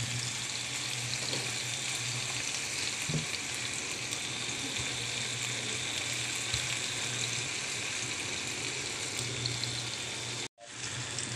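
Potatoes stirred and fried in a pan while cooking chicken Shanghai: a steady, close sizzle with faint scraping stirs, continuous throughout before cutting off abruptly near the end.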